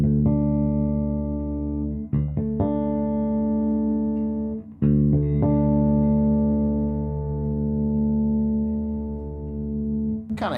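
A Jackson Pro Series Spectra Bass V five-string electric bass on its bridge pickup plays sustained, clear notes with a few harmonic touches, ringing loud and steady for about ten seconds with brief breaks and no voice.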